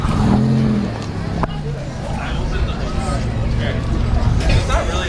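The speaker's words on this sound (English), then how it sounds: "there's a lot of cars driving by" Cars passing by at an outdoor classic car show, engine and road noise rising and fading close by under steady crowd babble and people talking.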